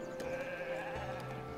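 Sheep bleating on a farm in the Foundation medieval city-building game, a steady drawn-out bleat holding at close range with a low tonal hum underneath, no talking.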